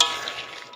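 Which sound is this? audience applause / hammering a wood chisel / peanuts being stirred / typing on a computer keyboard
peanuts being stirred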